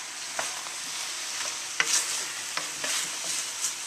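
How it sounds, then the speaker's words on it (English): Thick, pasty oil-free Thai red coconut curry with tofu is stirred in a pan, giving a soft steady sizzle broken by several sharp spoon clicks and scrapes, close and with no voices. "Pretty much every time I add something I want to give it a nice stir"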